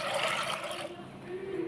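Water pours into a cooking pot for sambar rice with a gushing, splashing rush that tapers off partway through, leaving a softer trickle at close range.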